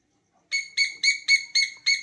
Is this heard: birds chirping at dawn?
yes